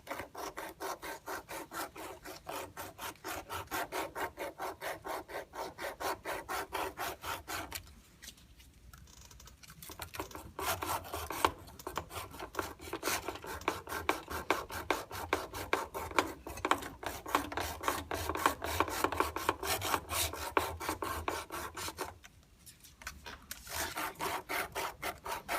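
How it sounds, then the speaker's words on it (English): Sandpaper roughing up an underground fibre enclosure, rapid rhythmic rasping strokes that run steadily and close up, with two brief pauses. "Sandpaper it, rough it up."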